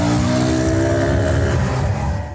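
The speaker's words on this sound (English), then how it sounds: "360-degree turn on the Honda 90" A Honda 90 motorcycle engine revs hard and continuously during a display-team stunt, a loud buzzing drone that holds steady and then eases off at the very end.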